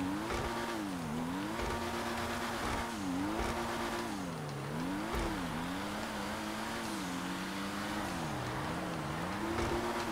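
An Ocelot Pariah sports car drifting on a track in GTA 5, its engine droning and rising and falling steadily in pitch through continuous single-gear slides, with tire squeal throughout.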